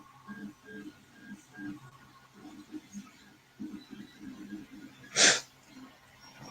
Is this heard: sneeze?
yes